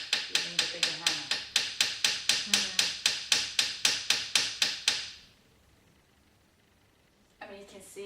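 A hammer strikes a rivet during silver jewellery making, about seventeen sharp, even metallic blows in quick succession, close and loud. Quiet follows, then a brief clatter at the end.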